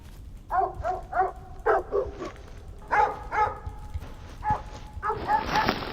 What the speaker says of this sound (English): I am barking.